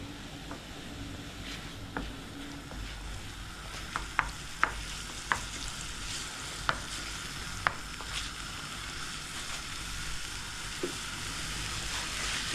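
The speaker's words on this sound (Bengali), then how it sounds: "প্রথমে এইগুলোকে একটু মশলাগুলোকে মিক্স করে নিই ভালোভাবে" Spices are stirred into an aubergine and tomato chutney frying in a pan, a steady soft sizzle broken by scattered sharp clicks of a spoon against metal.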